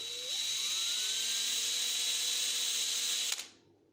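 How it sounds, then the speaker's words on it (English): Cordless drill boring holes in wood, a steady high whine for about three seconds that spins down and stops; close and fairly quiet with no talk. "You can do that on the drill press also, just like with the cordless drill."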